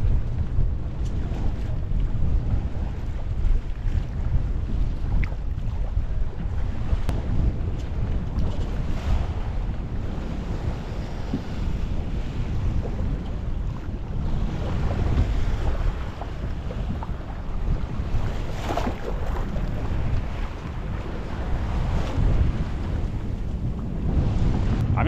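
Wind and waves on the Black Sea heard from aboard a sailing boat, a steady roar of wind buffeting the microphone over continuous wash of water, loud and unbroken throughout.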